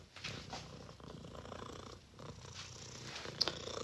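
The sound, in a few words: cat purring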